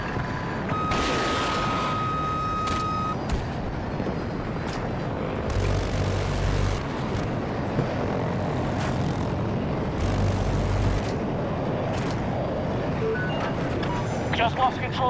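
Jet aircraft flying in the Battlefield 2042 video game, a continuous roaring engine rumble with bursts of louder blasts and a brief electronic tone, with a player talking over it.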